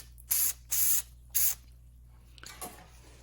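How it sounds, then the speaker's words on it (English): Fluid Film lubricant sprayed under a Ford Flex in three short, loud hissing bursts in quick succession, followed by faint handling noises. "Spray them a little bit."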